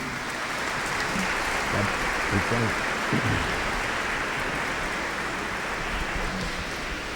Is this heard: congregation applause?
yes